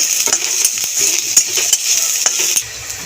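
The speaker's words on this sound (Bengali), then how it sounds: "পেঁয়াজ রসুন কাঁচা লঙ্কা ভালো করে ভাজা হয়ে গেছে" Onion, garlic and chili fry in oil with a steady bright sizzle, while a utensil clinks and scrapes against the pan in irregular stirring taps.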